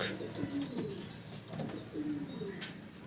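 Madras and Giribaz pigeons cooing close by, soft low throaty coos repeating in short phrases over a quiet background with a few faint clicks and rustles.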